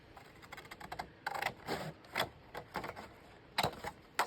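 Scissors cutting a small square off a file folder, a series of short crisp snips and paper crunches in irregular bursts, close and fairly quiet.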